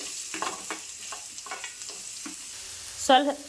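Onion, cumin and chopped green chillies frying in oil in a pan, giving a soft steady sizzle with light scraping stirs, followed by a louder burst of spitting as more goes in near the end.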